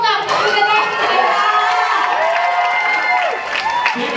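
A loud audience at an event cheers, shouts and claps for a film director. Excited voices ring out over dense clapping without a break.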